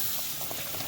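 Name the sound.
water boiling in a pot for biryani rice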